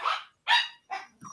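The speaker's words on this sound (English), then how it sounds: "her bark pierces me" Three sharp, piercing barks from a dog close by, evenly spaced, followed by a softer yip, loud and alone without talk.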